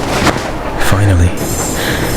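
A train engine roars loud and close in a dense, swelling rumble with a brief low horn-like blast, used as a horror story sound effect.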